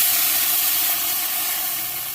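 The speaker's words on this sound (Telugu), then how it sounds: "వాటర్ అయితే యాడ్ చేస్తున్నానండి" Water poured into a hot pan of fried ginger paste and garam masala sends up a loud, close, continuous hiss of steam that tapers slightly over about two seconds.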